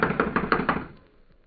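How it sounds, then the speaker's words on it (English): Five firm, evenly spaced knocks on a door, heard close, form a radio drama sound effect from a 1945 mystery broadcast, with a short decay afterward and no voices. "I'm going to knock."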